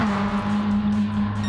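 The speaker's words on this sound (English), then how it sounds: "Guys are racing in the Fast and Furious cars" Racing cars on Tokyo Expressway in a racing game, a loud, steady engine drone held at near-constant pitch for a brief moment, close and continuous with no voices.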